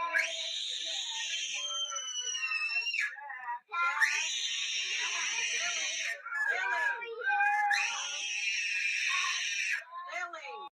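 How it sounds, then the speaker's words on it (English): A child's high-pitched, ear-piercing scream played from a recording, sustained in long shrill bursts with brief breaks between them, loud and close. "this is what that scream sounds like"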